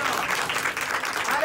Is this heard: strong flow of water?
no